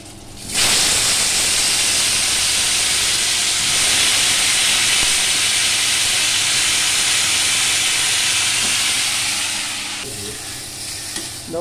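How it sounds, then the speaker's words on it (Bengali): Cauliflower frying lightly in hot oil in a pan gives a loud, continuous sizzle and hiss that starts abruptly and holds steady, easing off slightly near the end as the pieces are stirred. "দেখ, ফুলকপিটা আমি হালকা ভেজে নিচ্ছি।"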